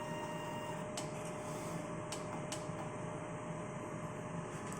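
Smart 60cm DTF printer running steadily, a continuous mechanical hum and whir with a few brief sharp clicks, close and alone.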